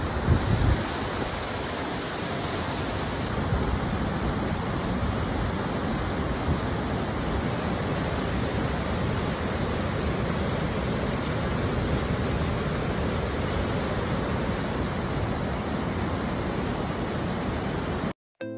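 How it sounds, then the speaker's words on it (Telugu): Jog Falls (Raja Falls) heard from its top point, a continuous broad roar of rushing water mixed with wind buffeting the microphone, steady and loud with no talk. "ఇదే రాజు ఫాల్ యొక్క టాప్ పాయింట్."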